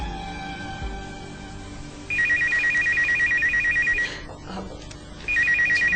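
An electronic phone ringtone trills in two bursts, a long ring then a pause before it starts again, fairly loud over quiet room noise.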